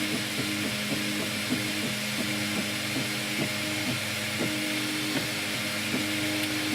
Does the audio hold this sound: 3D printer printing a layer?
yes